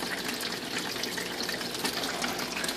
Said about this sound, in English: the water falling in is very loud